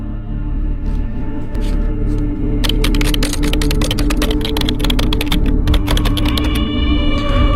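Rapid clattering keystrokes on a computer keyboard in an office, a steady near stream of taps that grows denser and sharper after the first few seconds, over a low constant hum.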